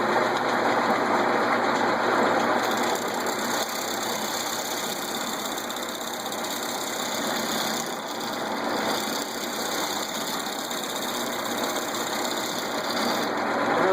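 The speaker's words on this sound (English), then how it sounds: "I'm just using a round nose scraper." A wood lathe spins a wooden cutting board while a round nose scraper cuts into it, giving a steady, continuous whirring drone with a rough scraping texture throughout and no talking.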